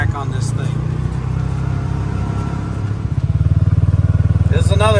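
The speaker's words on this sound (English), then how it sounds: "the engine braking, it holds you back on this thing" A Kawasaki Mule MX-Pro 700 EPS utility vehicle engine braking downhill drones steadily up close, its low rumble rising into a pulsing beat toward the end, with a voice over it.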